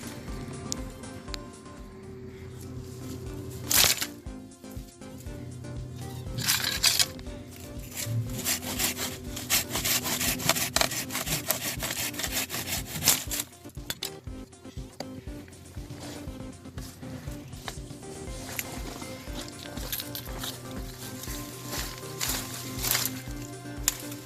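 Rough back-and-forth sawing through tangled garden growth, strokes coming in irregular bursts with rustling and rubbing of wood and stems between them, close and fairly loud with no speech.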